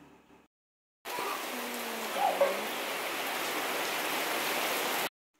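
Steady heavy monsoon rain in India hisses continuously for several seconds, a dense wash of falling drops that starts and stops abruptly, with quiet moments before and after.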